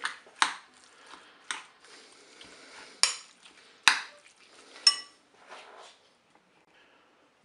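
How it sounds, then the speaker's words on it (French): A spoon scrapes and clinks in a bowl while stirring a stuffing of chopped parsley, tomato flesh, onion and garlic, with a few sharp, separate knocks spaced irregularly and quiet pauses between them. "je vais ajouter mon persil haché avec de la chair à tomate, de l'oignon et de l'ail. On mélange tout ça."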